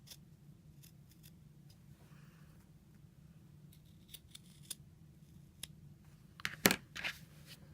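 Scissors cutting fabric to open a welt pocket, a few quiet snips ending in a sharper crisp cut, close and faint over low room hum.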